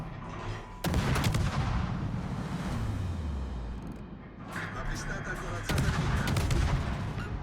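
Naval gunfire from the Tier 10 Italian destroyer Attilio Regolo in World of Warships: heavy booming salvos erupt early and again near the end, with rumbling shell reports and a descending whistle between them.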